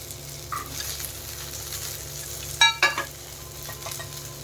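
Garlic and ginger fry in a pan for crab curry, a steady close sizzle with a couple of sharp metal stirring scrapes near the middle.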